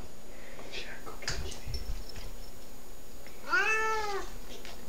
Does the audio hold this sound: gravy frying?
no